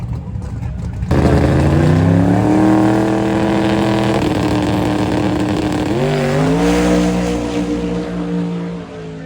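Steve Morris's Boostmaster wagon race car roars down the drag strip loud and close, holding a steady high engine tone before it shifts and climbs again, with an announcer talking over it.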